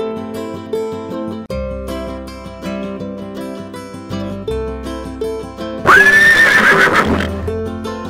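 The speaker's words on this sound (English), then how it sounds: "Horse." A horse gives one loud, wavering neigh late in the clip, rising sharply above continuous background music, with hints of clip-clopping hooves and no voices.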